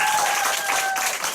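An audience at a Korean group talk or seminar claps together, a dense, steady wash of applause from a roomful of people that carries on without a break.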